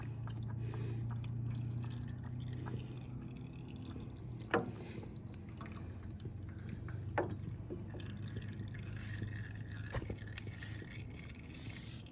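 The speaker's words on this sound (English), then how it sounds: "we're going to leak a little oil everywhere" Used motor oil drains and drips from a car, the old Casper, during an oil change, with a low steady hum underneath and a few sharp drip or plop sounds standing out now and then.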